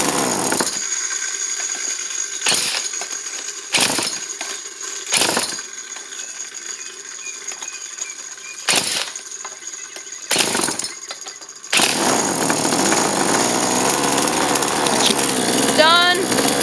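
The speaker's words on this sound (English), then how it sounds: "start it with the drill." A Poulan Wild Thing two-stroke engine is spun over by a drill in repeated short bursts, each a brief whir with pauses between, before catching into a continuous buzzing run near the end.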